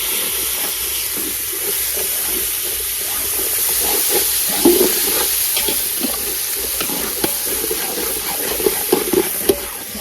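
Onion, potato and peas fry for khichdi, a steady hissing sizzle with scattered crackles and occasional stirring clinks of a utensil, close and continuous with no talk.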